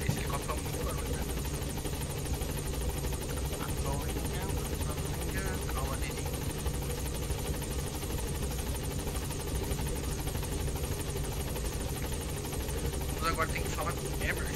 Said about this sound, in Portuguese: Esse helicóptero é muito barulho, né?